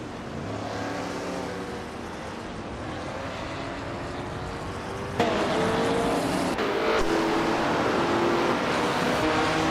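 Vintage race cars, including a 1967 Ferrari 330 P4, roar steadily in a racing video game, engines droning and rising in pitch close by with a sharper burst midway, no talk.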